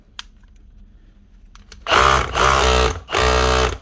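A repaired Milwaukee hammer drill runs in two loud close bursts after a short quiet lead-in, a buzzing mechanical rattle with a brief pause between runs.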